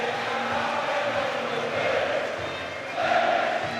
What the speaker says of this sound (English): we are going to have a minute of applause, just like that, ringing around Elland Road